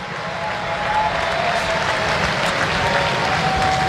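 Steady, extended applause from a cricket crowd at an Ashes Test in Hobart, a dense even roar of clapping that holds without pause.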